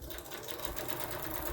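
A sewing machine hums continuously at speed while sewing a zigzag path with a straight stitch, a steady close buzz with no talk over it.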